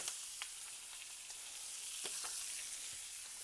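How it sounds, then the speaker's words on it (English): Vegetables saute in a pan for chicken francese, producing a continuous soft, dense sizzle with scattered tiny pops and crackles, steady and fairly quiet throughout with no voices. "I'm gonna saute these up for a little bit."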